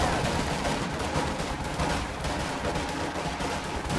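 Heavy, sustained rifle and machine-gun fire from a Company of Heroes 2 battle in the Ardennes, dense overlapping bursts forming a continuous loud barrage with no pauses.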